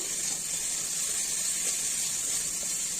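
Ground spice paste (masala) frying in a pan for a cauliflower and potato curry gives off a continuous, even, bright sizzling hiss that holds steady for the whole stretch with no talking.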